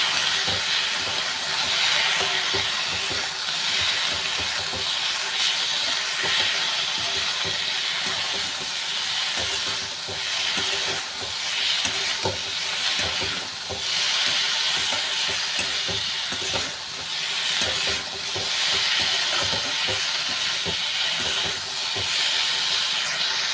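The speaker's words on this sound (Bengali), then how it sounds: "আলু পেঁয়াজটা আগে আমি খুব ভালো করে ভেজে নেব" Potatoes and onions fry in hot oil in a pan, a steady, loud sizzling hiss that carries on unbroken with slight swells.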